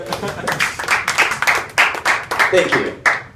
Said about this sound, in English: So you can applaud for that.